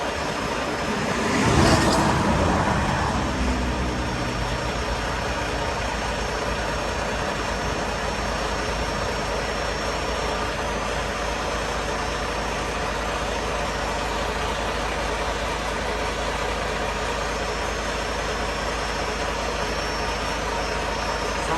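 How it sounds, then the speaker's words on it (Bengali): The diesel engine of a reefer refrigeration unit on a truck stopped in a remote area cranks with a brief loud burst, then settles into a steady, droning idle that continues evenly to the end. "ডিজেল ইঞ্জিন স্টার্ট হইতেছে"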